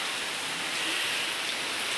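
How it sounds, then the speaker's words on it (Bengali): Steady, dense rainfall pouring down without pause, a continuous hiss of heavy rain on surfaces, fairly close and even throughout. "কীরকম বৃষ্টি হচ্ছে, প্রচণ্ড বৃষ্টি পড়ছে, প্রচণ্ড।"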